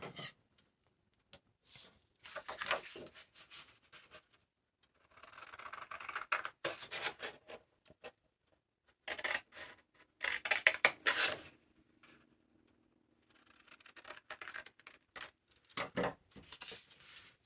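Scissors cut a small paper house shape in close, intermittent bursts of crisp snipping and paper rustle, separated by short quiet pauses, with no talking.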